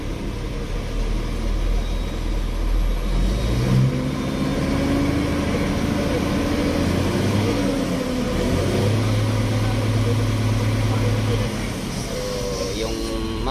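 A truck's diesel engine is held at maximum RPM during a repair check for fuel knocking, producing a steady, loud mechanical drone that runs throughout with no audible talking.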